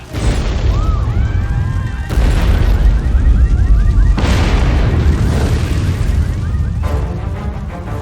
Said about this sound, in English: the chemicals stored in 55-gallon drums begin to explode under the intense heat